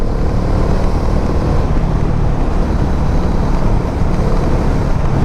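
A Bajaj Dominar 400 motorcycle's 349cc engine roars steadily and loudly without pause at high speed, blended with rushing wind noise.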